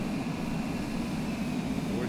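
A steady, close engine drone from a fast airplane in Flight Simulator 2020 cruises over Las Vegas for about two seconds while someone speaks over it.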